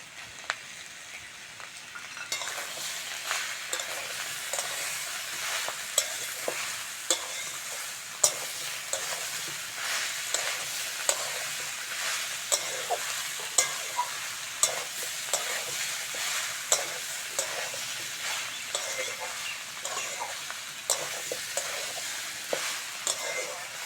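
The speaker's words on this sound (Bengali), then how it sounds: "মশলা দিয়ে ভালো করে কষে নিয়েছি" Spices with salt, turmeric, chili powder and cumin paste frying for a banana stem curry, a dense steady sizzle under constant spoon scraping and stirring with sharp clicks against the pan, no voices.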